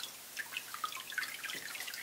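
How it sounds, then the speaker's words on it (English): Water drains and drips from paper pulp in a papermaking vat, thin sheets being formed for an artist book. Light, irregular drips and trickles sound close and quiet, with no voices. "And I'm gonna let it drain for a moment,"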